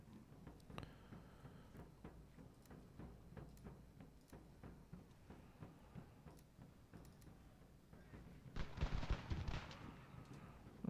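Musket volley fire in the video game Ultimate General: American Revolution, grenadiers against continentals: scattered sharp cracks through the clip, then a dense, loud burst of massed shots near the end.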